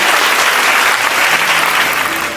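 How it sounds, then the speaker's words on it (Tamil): Audience at a motivational talk breaks into loud, dense applause, a continuous wash of many hands clapping with no break for the short stretch. "அவங்களுக்கு ஒரு பலத்த கைத்தட்டல் கொடுங்க."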